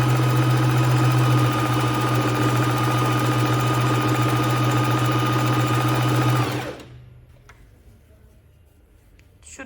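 A Bernette b05 sewing machine stitching a zigzag pattern runs with a loud, steady mechanical whir and hum for about six seconds, then stops, leaving a quiet room with faint clicks.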